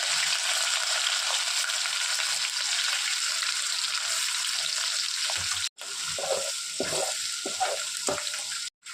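Cumin seeds and ginger-garlic paste sizzle steadily in hot oil for a Banjara saloi dish, a loud continuous frying hiss, then a few clinks and stirring scrapes of a utensil near the end.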